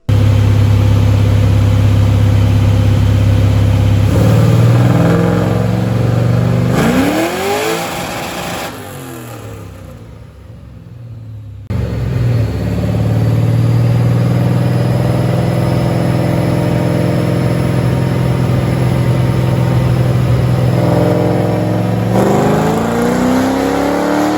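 A Nissan S14 engine revs hard on a dyno, loud and close, with long climbing pulls, a brief drop to near quiet, then another sustained high-rpm run.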